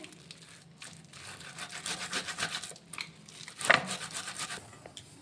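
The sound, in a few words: grating palm fruit pulp with a hand grater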